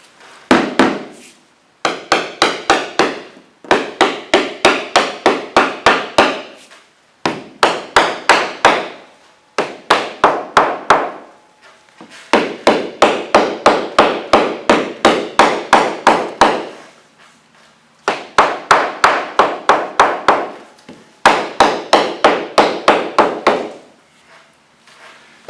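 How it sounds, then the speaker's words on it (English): Rapid bursts of hammer taps on wooden boat decking, sharp and close, in groups of about ten quick strikes separated by short pauses. "I've got a hammer up here"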